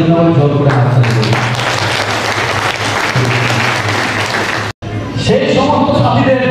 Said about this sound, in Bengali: নিজের জন্য জোর করে হাততালি করি